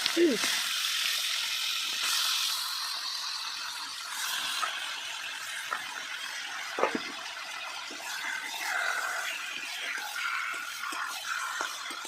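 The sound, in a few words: meat frying in oil left from frying potatoes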